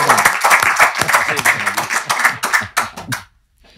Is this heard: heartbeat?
no